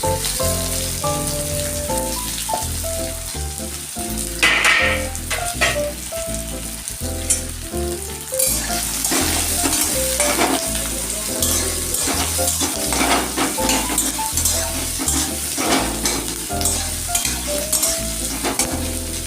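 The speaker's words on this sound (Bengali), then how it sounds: "পেঁয়াজগুলো ভেজে দেবো" Onions frying in a pan for pulao, a loud continuous sizzle with repeated scraping and stirring strokes at a steady rhythm throughout.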